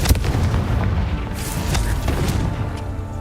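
Explosions from the Confringo fire spell in Hogwarts Legacy crack out with loud booms over a constant roar of in-game noise, one sharp blast near the start and smaller bursts after it.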